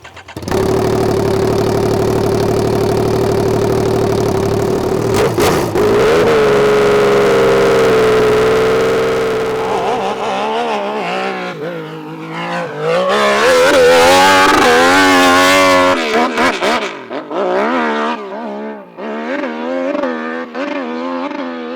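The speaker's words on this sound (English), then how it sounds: "testing out the one, the only Josh Hills YZ850 custom hill climb bike" A custom Yamaha YZ850 hill climb motorcycle with a street bike engine idles loud and close with a steady drone, then revs hard in repeated rising and falling bursts, ending in sharp blips with brief drops between.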